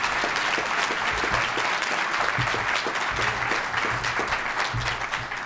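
Applause from the audience at a city address, started by a retired city manager, rolls on as a dense, sustained clapping from a sizable crowd, steady throughout and easing slightly at the end.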